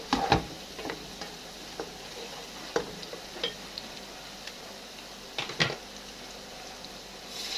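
Soft sizzling of food frying in a pan, with occasional scraping stirs and light clinks of a utensil against the pan.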